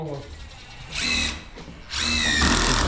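Power drill driving screws into wood during a wall remodel, two sustained whirring bursts of about a second each with a pause between, close and loud over a low background hum.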